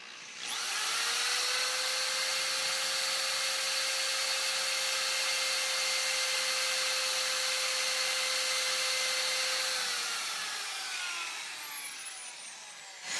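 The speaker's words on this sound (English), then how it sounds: "you start the drill, and then you push the drill in, and it'll start shaving the rivet." A steady, loud drill whine shaving an Olympic rivet on an Airstream trailer runs continuously for about ten seconds with a sustained tone, then winds down and stops.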